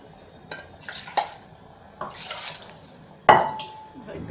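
A spoon scrapes and knocks against a metal pot while soaked rice is stirred into water for vegetable biryani, giving a few sharp clinks and a loud clang among softer scraping and sloshing.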